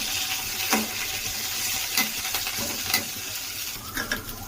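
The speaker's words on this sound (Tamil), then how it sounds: "ஒரு கைப்பிடி கொத்தமல்லி, ஒரு கைப்பிடி புதினா, இது 2 போட்டு கொஞ்சம் நல்லா வதக்கிக்கலாம்." A handful of coriander and mint leaves sizzles in a pan as it is sautéed for a mushroom donne biryani, a continuous close frying hiss broken by several sharp stirring clinks.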